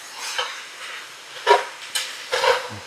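Beef and pork chunks browning in a pot for chili, a soft steady sizzle with a few brief louder stirring scrapes.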